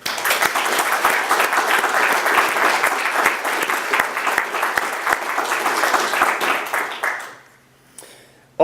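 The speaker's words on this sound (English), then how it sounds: "I ask you to join with me in a round of applause" An audience at a press freedom event applauds loudly and steadily for about seven seconds, a dense wash of many hands, then the clapping fades quickly into near silence.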